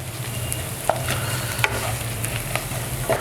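Spices, including coriander powder, are stirred into a frying mixture in a pan, giving a close, continuous scraping and sizzling with a few sharp utensil taps over about three seconds.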